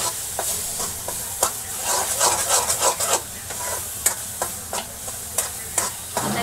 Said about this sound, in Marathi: आता याला चांगलं मी भाजून घेते.